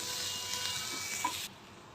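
Ginger and garlic fry in roasted masala in a hot pan, giving a soft, steady sizzling hiss that cuts off partway through.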